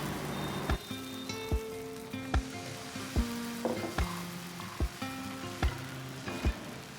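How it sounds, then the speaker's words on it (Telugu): Dosa batter sizzling on a hot iron pan gives a loud, steady hiss, broken by regular sharp clinks or taps about once a second, with no voices. "రెండోసారి కూడా ఇలాగే నీళ్లు చల్లుకొని మళ్ళీ దోశ వేసుకోవాలి"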